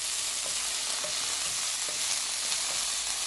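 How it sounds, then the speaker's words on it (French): Cassava leaves cooked with peanut paste, seasoned with stock cube and salt, left to simmer in a pot, giving a steady broadband sizzle and bubbling hiss with faint soft stirs or pops, close and continuous, with no talking. "Et je laisse mijoter pendant 10 minutes."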